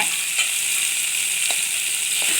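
Tomatoes and cashews sautéing in a pan for a home-style paneer gravy, a steady loud hiss of sizzling oil with a few faint stirring scrapes, no voices.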